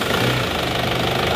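A freshly reassembled engine runs after a costly repair, giving a loud, close, steady rumble with a rough, knocking pulse throughout.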